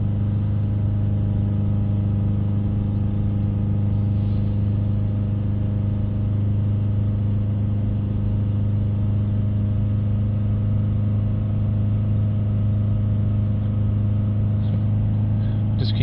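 A Mitsubishi Outlander engine runs during diesel particulate filter regeneration with an overloaded, soot-clogged filter, held at raised revs in a steady, unchanging drone of constant pitch, close by and without gaps.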